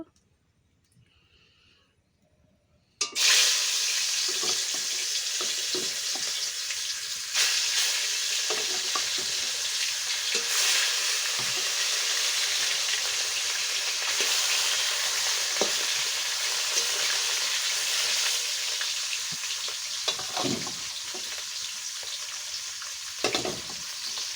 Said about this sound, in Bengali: এই মাছ কড়াইতে আমি তেল দিয়ে দিয়েছি গরম হয়ে গেছে এখন মাছগুলো ভেজে নেব